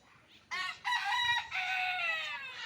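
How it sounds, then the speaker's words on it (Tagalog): Loud, drawn-out calls from small chickens in an enclosure at a zoo animal sanctuary, close by: a short cry followed by two longer strained, crowing-like calls with no talking. "May mga maliliit na manok."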